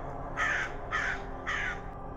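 A crow gives three harsh, evenly spaced caws, close and clear, with nothing else sounding between the calls.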